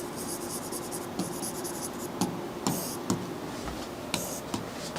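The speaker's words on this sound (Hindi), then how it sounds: "यहाँ लिखते हैं डिस्टेंस और यहाँ लिखते हैं" Chalk or pen strokes on a board during a physics lesson on distance and displacement, heard as short scratchy bursts that come and go in an irregular rhythm, close and fairly soft, with no talking.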